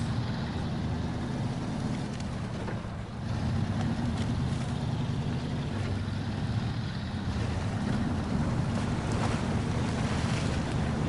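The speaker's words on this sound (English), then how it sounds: "Another river crossing" A heavy truck in SnowRunner pushes through a river, a steady low engine drone blended with continuous rushing, splashing water, loud and unbroken throughout with no voices.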